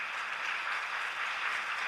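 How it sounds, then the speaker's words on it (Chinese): Warm, even applause from a church congregation during a Sunday worship service, moderately loud and sustained without talking. "我们给少年长辈一个热烈的掌声"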